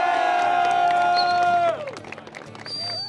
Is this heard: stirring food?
no